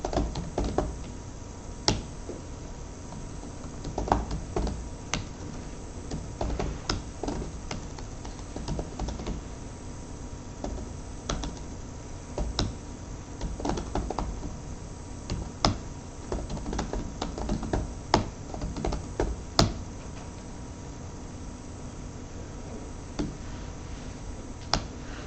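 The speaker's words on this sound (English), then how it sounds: "I'm sitting here and I can be typing commands and so on and so forth, and that script is running" Commands are typed on a computer keyboard, a quiet, steady patter of irregular key clicks with occasional louder taps, heard alone throughout.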